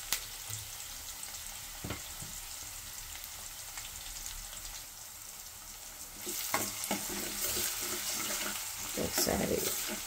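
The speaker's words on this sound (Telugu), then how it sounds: "కొంచెం ఆయిల్ వేసుకొని దాంట్లో తాలింపు గింజలు వేసాను." Tempering seeds crackle and sizzle in a little hot oil for a bean and grated coconut curry, a low hiss first, then louder stirring and popping near the end.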